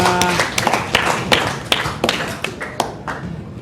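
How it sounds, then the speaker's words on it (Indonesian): Hands clap at a school teaching-performance session in an Islamic education classroom, a string of sharp, irregular claps from a small group sounding close and fairly loud over a murmuring room. "Tepuk tangan untuk kita semua"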